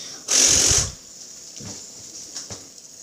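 Fidget spinner whirring fast while someone blows on it, a loud half-second burst of breathy rushing air and buzz, followed by quieter brief scrapes and taps.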